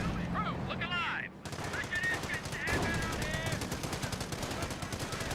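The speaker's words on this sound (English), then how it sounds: "Panzer Grenadiers being suppressed by the base MGs" Rapid, sustained bursts of machine gun fire from base MG emplacements in the Company of Heroes game, a dense rattling stream of shots that starts after a brief lull and continues to the end, with voice chatter mixed in early.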